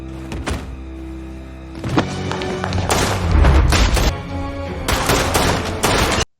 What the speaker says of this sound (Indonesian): Hingga menyebabkan baku tembak antara Russell dan anak buah Daeyeon pun tak terelakkan.